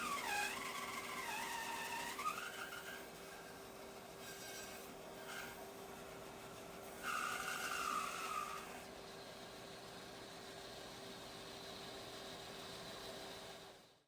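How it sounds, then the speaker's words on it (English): An underpowered bandsaw grinds slowly through a maple log, a quiet strained rasping with a steady motor hum beneath and a few brief squealing bursts as the blade binds, fading out at the end. "So I'm going to push this through here. My bandsaw, very underpowered, very not ready for this task."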